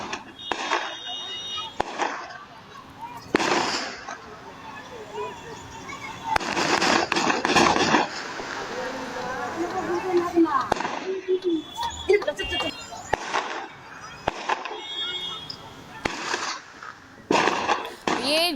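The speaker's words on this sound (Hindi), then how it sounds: "ये जो गोलियों की तड़तड़ाहट आप सुन रहे हैं" During an armed attack on former Bihar MLA Anant Singh, repeated rounds of gunfire crack out in irregular bursts, sharp and echoing, amid shouting voices and background commotion.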